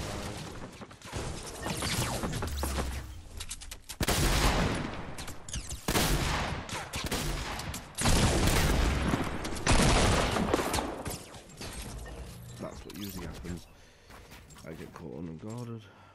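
Rapid bursts of Uzi submachine-gun fire in Fortnite, loud and dense, coming in repeated volleys over about sixteen seconds with game sounds mixed in.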